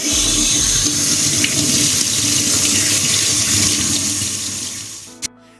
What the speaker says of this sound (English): Wash them well and dry them.